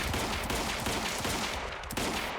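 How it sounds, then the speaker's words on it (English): Rapid, dense gunfire in the video game Quantum Break, a loud continuous burst of shots with a brief pause near the end. "I'm just gonna use all of the bullets."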